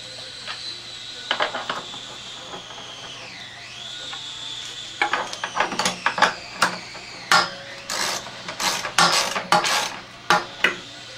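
Screen stretcher mechanism tensioning screen material: a string of sharp metallic clicks and clanks, sparse at first and then coming in quick irregular bursts toward the end, close and fairly loud over a steady low hum.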